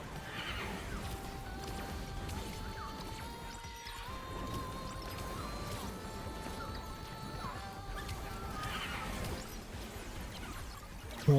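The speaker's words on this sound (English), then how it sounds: "Horse." Horse neighing in a roguelike video game, several whinnies rising and falling over a steady game backdrop, with one near the start and another toward the end, fairly loud and close.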